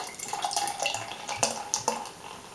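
Rock IPA beer poured from a freshly opened, lightly chilled bottle in a kitchen, a close fizzing, splashing pour with a few clinks and drips, no voices.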